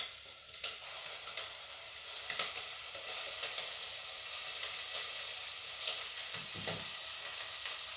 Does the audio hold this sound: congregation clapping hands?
no